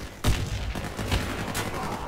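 A grenade explodes in the shooter game Warface during a team deathmatch, a sharp loud boom at the start followed by continuous rumbling gunfire and blasts.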